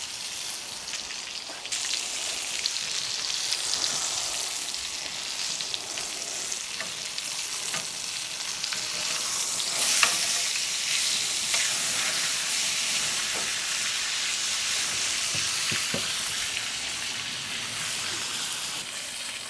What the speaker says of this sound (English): we can cook the onions in the butter as well